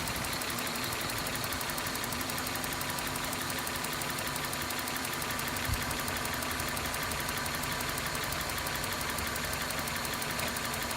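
A 1995 Geo Prizm engine idles roughly, close by and steady throughout, with an uneven knocking pulse and vibration that sounds near stalling. No one speaks.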